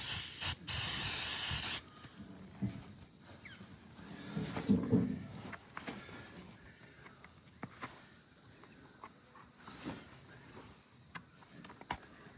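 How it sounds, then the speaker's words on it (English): A loud burst of hissing glue accelerator spray onto a hoof pad's cuffs at the start, lasting under two seconds, followed by quieter handling noises and small clicks. "Then with the accelerator, just spray the cuffs."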